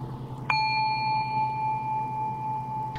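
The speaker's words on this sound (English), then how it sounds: "Dylan, ring that goddamn bell" A single bell in the VRChat game rings once with a bright metallic strike, its clear tone sustaining and slowly fading over steady background hum.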